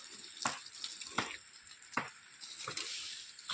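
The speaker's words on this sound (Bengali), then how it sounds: "এদিকে আমি তো গাছে জল দিতে শুরু করে দিয়েছি।" Water spraying onto plants inside a green shade house, a hissing splashing stream that surges in several bursts, quiet and close, with no talking.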